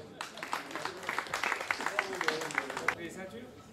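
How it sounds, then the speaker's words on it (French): Audience at a boxing weigh-in clapping for a few seconds, a moderate crowd of hands patting steadily before tapering off, with an announcer's voice mixed in. "50 kg 700 également, on peut les applaudir."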